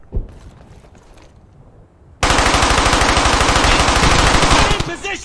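An MG42 machine gun in the World War II shooter Brothers in Arms: Hell's Highway rips off a loud, sustained burst of rapid automatic fire that starts abruptly after a quieter stretch of talk and ambient noise.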